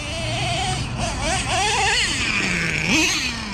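A Traxxas Revo 3.3 nitro RC monster truck engine screams close by, its pitch rising and falling in repeated revving runs and shifting through two speeds, loud and continuous throughout.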